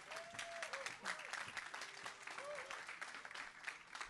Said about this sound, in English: So let's all give her a round of applause.